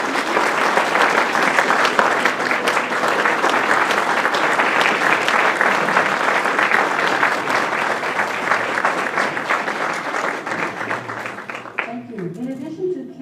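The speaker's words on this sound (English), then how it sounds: "Please join me in a round of applause for our candidates" Sustained audience applause for candidates at a county League of Women Voters candidate forum, dense and even, then fading near the end as a voice begins speaking.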